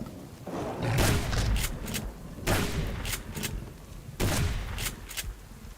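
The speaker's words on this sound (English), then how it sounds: "Should be able to just shoot him one more time with a rifle" Rifle gunshots in a survival video game, heard as several heavy, booming shots spaced a second or two apart, each followed by a rolling echo against a constant noisy background.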